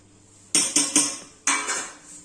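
Metal dishes and utensils being washed clatter against each other in a few sharp bursts, close by, with quiet gaps between the clanks.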